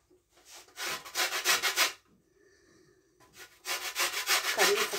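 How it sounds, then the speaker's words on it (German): Lemon zest being grated over bananas for a banana bread: two bursts of quick, rhythmic rasping strokes, close and fairly quiet, separated by a short pause. "Wisst ihr, dass wir da auch ein bisschen Zitrone drüber reiben können?"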